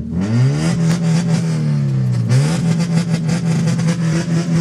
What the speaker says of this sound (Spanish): ¿Por qué el motor suena así de fuerte?